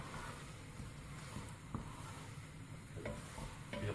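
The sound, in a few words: stirring keema mince and spices in a pan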